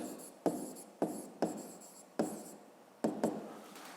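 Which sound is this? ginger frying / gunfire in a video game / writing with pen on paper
writing with pen on paper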